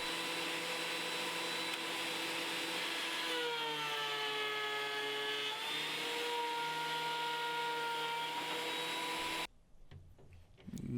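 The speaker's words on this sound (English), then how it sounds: "I just ran it through my planer" A thickness planer feeds a thick wood board, a loud steady roaring whine with shifting pitch that holds for about nine seconds before cutting out abruptly into near quiet.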